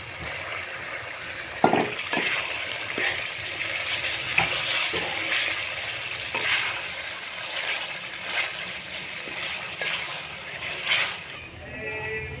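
Spinach frying in spiced oil in a pan, a steady close sizzle and hiss with scattered crackles and occasional stirring knocks over about twelve seconds, with faint talk under it.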